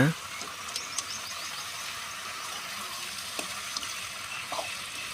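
Chopped tomatoes go into onions frying with a pinch of salt in a pan, giving a steady, close sizzling hiss with a few faint clinks of stirring.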